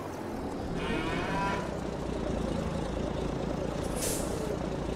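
Low cattle moos in a video game sound over a steady truck engine drone, followed by a sharp hiss of air brakes near the end.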